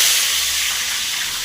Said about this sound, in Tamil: இப்போ எண்ணெய் காஞ்சிச்சு கடுகு போட்டுடலாம் நல்லா பொரியட்டான் அப்படியே கருவேப்பிலை கருவ போட்டுடலாம்